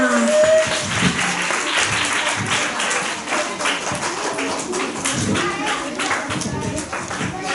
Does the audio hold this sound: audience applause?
yes